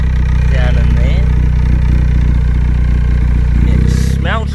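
A turbocharged Suzuki Swift ZC31S engine idles steadily with a loud, even low rumble close by, while people talk briefly over it.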